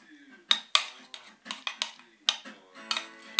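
A utensil stirring ingredients in a bowl with a little water, producing a series of close, sharp clinks and scrapes against the bowl with quiet gaps between them.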